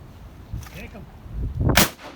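A shotgun blast rings out during a Wisconsin duck hunt for mallards in a snowy blizzard, a single loud sharp report near the end, preceded by faint rustling and brief low voices.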